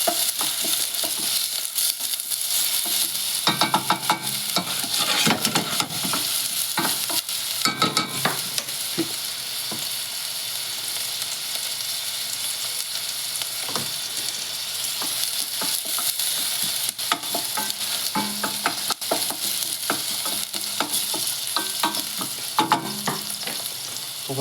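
Onions sautéing in a pan for a tonkatsu dish, a steady broadband sizzle running throughout with intermittent scraping stir strokes, close and fairly loud with no talking.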